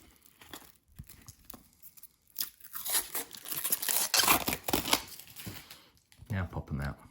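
Plastic board-game tokens being peeled off their sheet, giving crinkly tearing and crunching bursts that build in the middle, close up, with a person speaking at the end.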